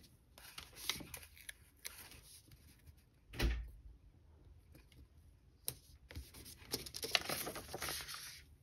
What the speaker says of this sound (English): that was my fat cat opening the door and letting himself in the craft room